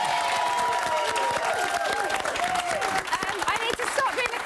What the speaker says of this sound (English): OK, let's clap one more time for Luke.